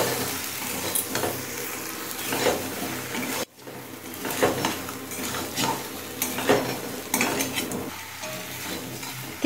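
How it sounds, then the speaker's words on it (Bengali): Elephant foot yam and spices stir-fry over medium heat with a continuous sizzle, broken by repeated scraping and clinking of a spatula against the pan and a short silent gap partway through. "এবার এতে দিয়ে দেবো ওল, মাঝারি আঁচে খুব ভালো করে কষিয়ে নেব।"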